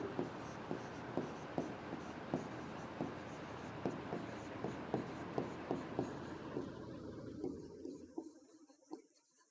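Marker or chalk strokes on a board during a physics lecture on electric dipoles: steady rhythmic taps and scratches, close and clear, for most of the clip before fading to near silence, with a faint voice now and then.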